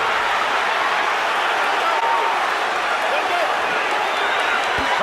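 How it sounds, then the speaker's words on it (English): Boxing arena crowd cheering during a late-round flurry in the Andre Ward vs Sergey Kovalev fight, a steady, dense roar of voices and applause that holds at an even level throughout. "Crowd rocking and rolling."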